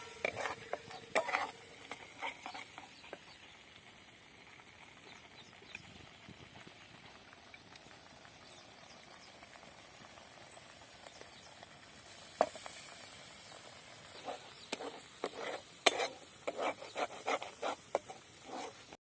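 Spiced cowpea dish, chillies and masala frying in a pan as it is stirred, with a faint background sizzle and scattered clicks and scrapes from the spoon, growing busier toward the end.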